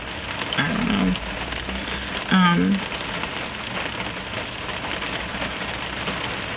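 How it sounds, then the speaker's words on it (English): Hard rain falls in Georgia, a steady mid-level hiss with two brief louder bursts of nearby sizzling noise about a second apart. "It's raining hard today."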